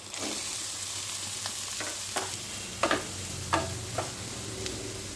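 Pumpkin pieces frying in a pan with chopped chilli, giving a steady low sizzle with a handful of sharp clicks and scrapes from stirring, close by with no talk.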